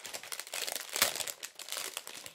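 Gift package wrapping crinkles and rustles as a swap parcel is opened, with continuous close crackling paper and one sharper tear-like burst partway through.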